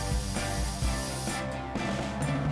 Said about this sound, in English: we're gonna satin spray down the Venom body